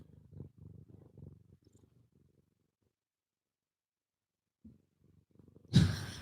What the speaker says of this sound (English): Come on, cat, purr for me.